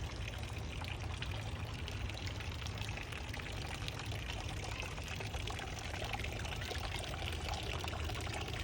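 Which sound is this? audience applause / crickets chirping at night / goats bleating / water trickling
water trickling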